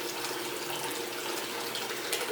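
Water flows steadily through a spiral gold wheel used for gold recovery, a continuous even rushing wash with no breaks.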